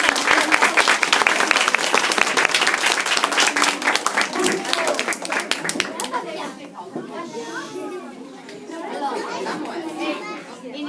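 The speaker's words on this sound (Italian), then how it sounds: "Un applauso ai bambini." Applause and lively children's voices fill the room at a Christmas singing event, loud and dense for about six seconds before fading into softer chatter and scattered movement.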